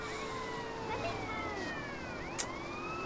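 A police car in a video game drives with its siren wailing, sweeping up and down in steady cycles over a low rumble of road noise, fairly faint, with a brief sharp click near the end.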